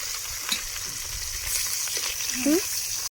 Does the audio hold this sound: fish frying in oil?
yes